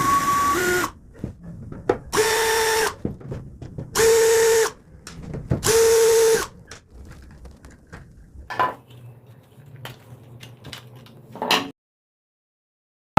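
Cordless drill machine being taken apart with a powered screwdriver to unscrew its casing screws, four loud, evenly spaced whirring bursts followed by quieter clicks, rattles and a short motor buzz, with no talking.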